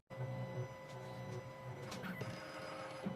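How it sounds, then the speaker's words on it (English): A 2M2 Tank2 Pro key machine decodes the lateral side of an original Citroen SX9 key, giving a steady mechanical whir and motor hum with a few faint clicks, running close and continuous with no talk. "The machine is decoding the lateral side."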